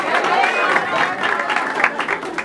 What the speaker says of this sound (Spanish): ¿será que mariachi se merece un aplauso?